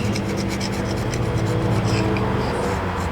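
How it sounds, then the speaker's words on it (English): A carbide scraper rasps steadily across the corroded flange of a soft exhaust manifold mounting surface on a 2020 GMC 2500HD 6.6 engine, a continuous close gritty scraping with a little low mechanical noise beneath. "I'm just going through scraping off all the corrosion using the carbide scraper"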